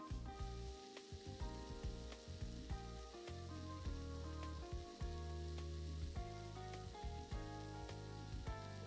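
Meat searing in a pan, an even crackling sizzle running throughout beneath a loud low tonal hum and rhythmic background music.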